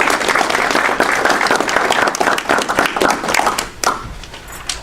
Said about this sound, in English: Let us welcome them with applause.